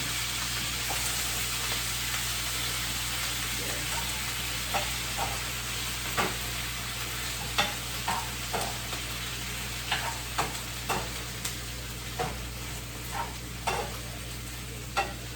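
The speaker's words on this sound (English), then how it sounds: "And so this will be for my kohlrabi and my carrot. So I will stir fry." Kohlrabi and carrot stir-fry in a pan with sautéed onion and garlic, a steady low sizzle broken by frequent crisp scraping clicks of a utensil stirring, heard close with no one talking.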